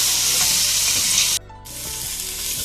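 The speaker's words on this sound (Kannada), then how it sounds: "ಈಗ ಚೆನ್ನಾಗಿ ಹುರ್ಕೊಂಡಿದ್ದೀನಿ ಚಿಕನನ್ನು." Farm chicken with salt and pepper powder fries in a pan while being stirred, making a loud, close, steady sizzle that drops away briefly partway through before resuming, with no talk.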